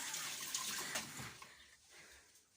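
Hands are washed under a running kitchen tap, giving a soft steady splash of water that fades out toward the end, fairly quiet with no speech.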